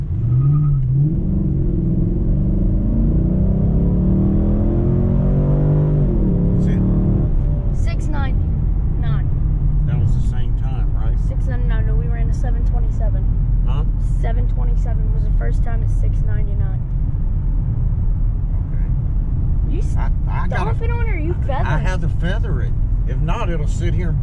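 A Pontiac G8 GT fitted with a Camaro SS differential launches hard, its V8 roaring loud and close as the engine climbs through revs, then settles into a sustained rumble while people talk over it.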